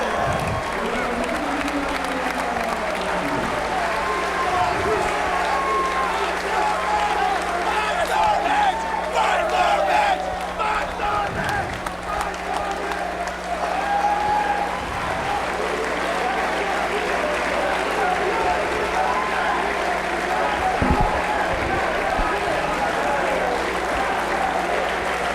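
A wrestling crowd at a Ring of Honor street fight erupts after a pinfall off a ladder, sustained loud applause, cheering and shouting filling the building with occasional heavy thumps and a commentator's voice beneath.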